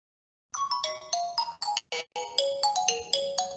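Mobile phone ringing with an incoming call, a bright electronic melodic ringtone playing loud and close, starting abruptly after a brief silence.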